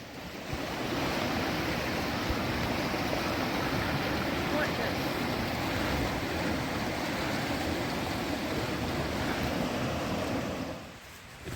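The Strid, a narrow river channel running in flood, roars as a loud, steady wash of rushing water with wind buffeting the microphone, continuous until it eases off near the end.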